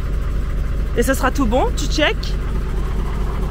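Idling engine of the camper van Shaman after warming up, a steady low rumble running throughout under a voice talking in French.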